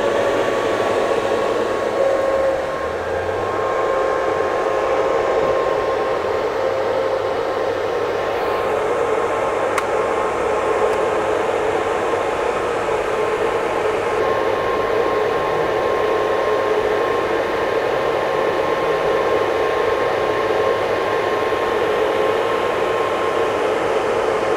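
Server holding one terabyte of RAM just after power-on, its cooling fans roaring in a loud, steady rush with a faint whine that stays constant and close throughout, no voices.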